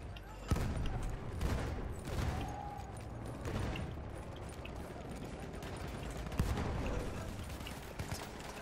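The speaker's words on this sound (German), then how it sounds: "Feindliches Maschinengewehr!" Enemy machine gun fire in a World War shooter game battle at Amiens, rapid bursts and scattered shots crackling under dense battlefield noise while a soldier voice shouts in German.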